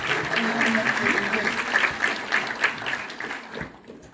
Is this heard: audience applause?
yes